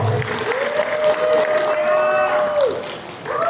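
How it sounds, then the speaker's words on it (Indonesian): A seminar audience claps in a dense steady wash, under a sustained tonal whine and some voices. "Ya, tepuk tangan dulu dong."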